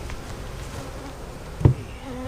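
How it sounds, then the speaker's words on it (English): A queenless honey bee colony buzzing in a steady, dense drone close by, with a brief louder knock or bump partway through. "So that's a very small colony to put with a lot of very not happy queenless bees"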